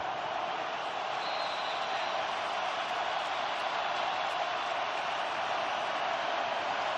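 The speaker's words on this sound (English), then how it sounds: "Crowd roaring." A steady, dense roar from a packed football stadium crowd at a Bills versus Texans game holds for several seconds at an even level, a broad wash of distant cheering with no distinct voices standing out.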